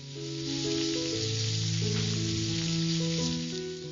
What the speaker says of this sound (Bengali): পেঁয়াজটি কিছুক্ষণ তেলের সঙ্গে ভালোভাবে ভেজে নিতে হবে।